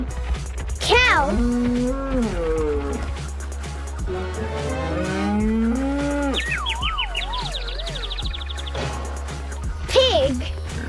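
A cow gives a few long, drawn-out moos that bend up and down in pitch, loud and close. A brief higher sliding call follows near the end over a low steady hum.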